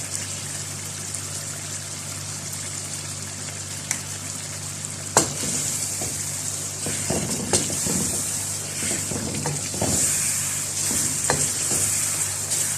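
Chicken white karahi with lemon juice frying in a pan, a steady sizzle with occasional stirring clinks and scrapes, close and continuous with no talk.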